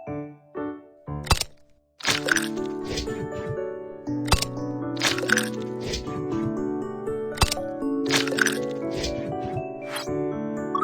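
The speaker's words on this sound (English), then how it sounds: "Crack 3 eggs." Eggs are cracked for batter in a cartoon cooking game, giving a few sharp, crisp cracks set against bright, jingly background music.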